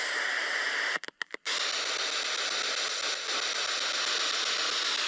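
Spirit box radio scanning in reverse gives a loud continuous hiss of static, broken near the start by a few rapid dropouts as it sweeps through stations.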